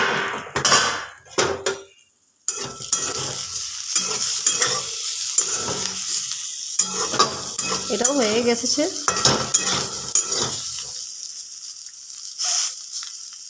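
Vegetables for shukto fry in a pan as the lid is lifted, bringing clanks of metal and spatula scraping over a steady sizzle, close by, with a brief spoken remark.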